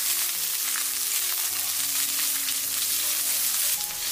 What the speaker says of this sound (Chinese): 锅留底油，下入蒜片，开中小火给它煸炒出香味。